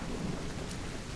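Steady rain with rolling thunder in the video game Call of the Elder Gods, a dense, continuous hiss of rainfall under a low rumbling roar, even and moderately loud throughout this short stretch.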